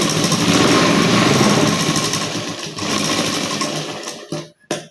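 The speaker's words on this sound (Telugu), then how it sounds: "లూజ్ కుట్ పెట్టుకొని ఒక స్టిచ్ వేసుకుంటే ఇలా చివరి వరకు వేసుకోవాలండి" Sewing machine stitching thread piping onto cloth, a loud steady mechanical whirr running almost continuously for about four seconds before stopping, then two brief restarts near the end.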